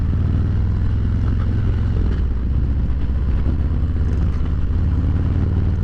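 A 2023 Harley-Davidson Road King pulls away from a stop, its steady low V-twin rumble loud and close throughout with a constant engine drone and faint mechanical clatter, no talking.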